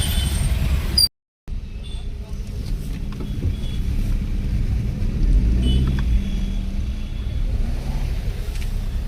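Heavy traffic on a crowded hill road to Dhanaulti, where cars are turning back in a jam, gives a steady low engine rumble with passing vehicle noise and a brief dropout near the start.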